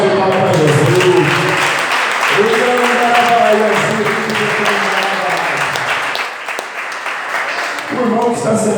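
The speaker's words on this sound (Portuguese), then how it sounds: "Dá uma salva de palmas para Jesus." A church congregation applauding together during a worship service, a broad steady patter of many hands carrying on throughout, mixed with music and voices.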